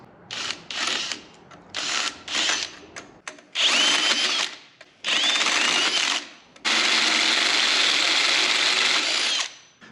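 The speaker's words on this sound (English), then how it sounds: "So I'm going to try taking a hole saw, laying it in the groove, and cutting a little partial slice." A power drill drives a hole saw laid in a groove to cut a partial slice. Loud bursts of whining, grinding cutting come in short spurts with brief pauses, then one longer continuous cut, close by.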